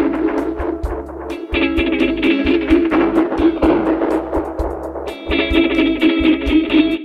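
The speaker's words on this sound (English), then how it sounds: "It will apply bit crushing and sample dividing." Loud, gritty music crunched by a lo-fi bit-crushing effect, distorted and steady throughout.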